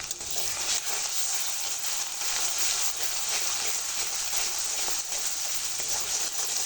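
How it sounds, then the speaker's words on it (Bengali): Spice paste of mustard, onion, cumin, turmeric and chilli powder frying lightly in oil, a dense, even sizzle that stays close and loud throughout with no pauses or talk. "মশলাটা আমি খুব ভালো করে ভাজবো না, হালকা একটু ভেজে নেব।"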